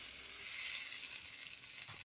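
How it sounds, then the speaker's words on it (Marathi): Hot tempering of mustard seeds poured over a millet idli chutney, giving a loud, bright hiss of sizzling that holds steady for about two seconds and then cuts off abruptly. "आता तयार फोडणी मी ह्या चटणीवरती घातलेली आहे"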